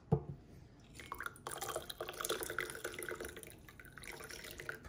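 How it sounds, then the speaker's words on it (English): Hot water from a kettle is poured into a mug, a soft continuous splashing trickle lasting several seconds at low volume, with no talking. "then you add more hot water in here"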